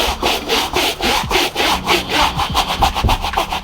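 A Rockin'Green cleaning brush scrubs a shoe with quick, rhythmic back-and-forth strokes. The bristles rasp loudly and close up in a steady stream of rough rubbing with no pause.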